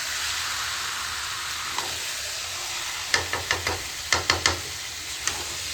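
Marinated chicken for a restaurant-style chicken curry sizzles in a covered pan over medium heat, a steady close hiss broken by a few soft clicks and knocks.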